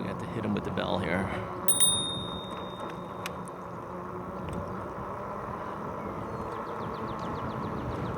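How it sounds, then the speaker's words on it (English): A RadRover 5 e-bike's handlebar bell rings twice, bright and close, during a ride on wet roads after heavy rain, over steady rolling and road noise. "we got to hit him with the bell here"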